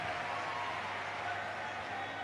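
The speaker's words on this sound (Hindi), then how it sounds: "एक बार जोरदार ताली बजाकर साधुवाद दीजिए।" Audience applause at a live Parthiv Shiv Mahapuran katha in Rohini: a dense, continuous wash of many hands clapping, steady and fairly distant, filling the whole moment.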